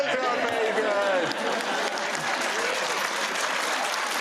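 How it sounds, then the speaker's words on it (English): A studio audience at a comedy panel show claps and cheers in a loud, sustained round of applause, with a voice speaking faintly underneath. "Can I stop that round of applause?"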